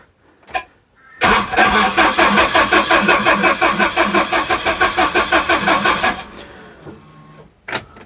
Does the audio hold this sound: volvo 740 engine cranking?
yes